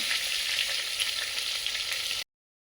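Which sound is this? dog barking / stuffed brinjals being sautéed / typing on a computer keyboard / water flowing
stuffed brinjals being sautéed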